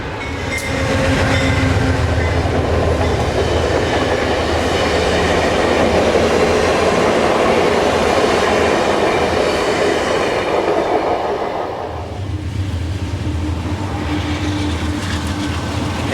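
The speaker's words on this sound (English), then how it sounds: "Seen from the Tunnel Inn porch, Amtrak's Pennsylvanian heads to Pittsburgh from New York City." Amtrak's Pennsylvanian passenger train, bound from New York City to Pittsburgh, rolls past the Tunnel Inn porch in Pennsylvania with a loud steady roar and wheel clatter that dips briefly before the rumble resumes; no one speaks.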